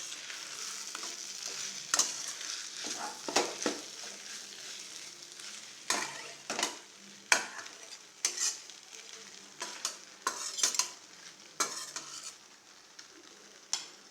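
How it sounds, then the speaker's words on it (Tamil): Onion, green chilli and tomato tempering with rice in a pan, a continuous close sizzle cut by repeated scraping stirs and clinks of a spoon against the pan at an uneven rhythm. "டக்குன்னு இப்படி வெங்காயம், பச்சை மிளகா, தக்காளிலாம் அரிஞ்சு வச்சு நல்லா தாளிச்சுக்கலாம்"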